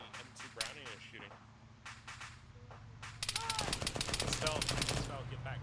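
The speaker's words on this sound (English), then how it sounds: "Do not move towards where the M2 Browning is shooting." An M2 Browning machine gun firing in a video game: a loud, rapid burst of repeated shots starts about halfway through, after scattered sharper single cracks, all over a steady low rumble.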